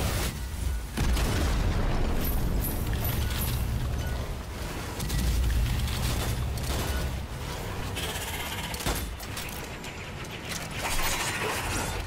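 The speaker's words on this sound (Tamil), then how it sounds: "அது நான் நான் வரும்போது தான்டா வெடிக்குது" Dynamite blasts in the co-op video game Strange Brigade, with booming detonations and mechanical clatter over a dense, continuous game soundscape that stays loud for the whole stretch.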